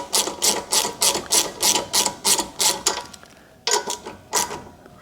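Ratchet being worked by hand to snug the ignition coil bolt into the aluminium head of a Honda HRX 217 lawn mower, giving close, regular bursts of rapid clicking that pause briefly and then resume, with no talk.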